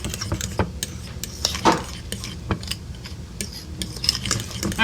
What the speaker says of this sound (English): Alright, so I'm just gonna stir that in there.